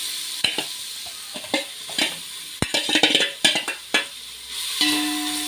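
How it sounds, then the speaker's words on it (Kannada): Roasted carrots tipped into a hot pan and stirred for carrot payasa, a series of close scraping stirs and knocks over a soft sizzle, ending in a steady fry with no talking. "ಈಗ ಇದಕ್ಕೆ ಇದು ಹುರಿದಂಥ ಕ್ಯಾರೆಟ್ ಹಾಕ್ಕೊಳ್ತಿದ್ದೇನೆ"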